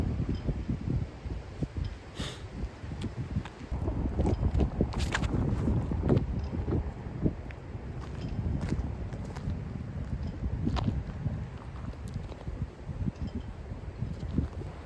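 Gusty crosswind blows steadily outdoors at a disc golf throwing area, a continuous rushing buffet against the microphone with rustling surges throughout and no talking.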